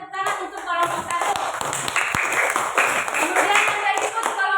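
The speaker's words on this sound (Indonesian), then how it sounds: "Coba berikan tepuk tangan untuk kelompok 1." Classroom audience clapping for a student group during a teaching-practice session, a dense patter of hand claps with scattered taps and shuffling, fairly loud and steady for a few seconds.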